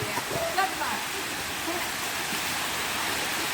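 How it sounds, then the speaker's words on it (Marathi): Steady broadband rush of water falling down a stream at a river, continuous throughout with faint voices in the background. "पाणी बघा असं एकदम मस्त प्रकारे पडतोय खालती"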